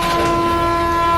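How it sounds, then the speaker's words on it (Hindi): A train horn blares as one long, loud, unbroken blast with a heavy rail rumble beneath it, as a train hits a truck at the Navadih level crossing on AIIMS Road in Deoghar, Jharkhand. "ट्रेन आई और ट्रक को टक्कर मारती चली गई।"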